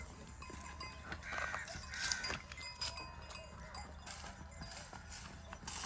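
Bells hang from the necks of buffalo in a Punjab village in Pakistan, ringing in scattered light clanks amid hoof clatter and outdoor ambience, with faint talk in the background.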